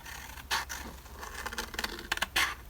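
Scissors cut paper scraps for a journal page, trimming inside guide lines: a few soft, uneven snips and papery rustles close by, quiet and intermittent, with no talking.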